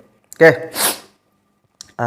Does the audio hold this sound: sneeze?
yes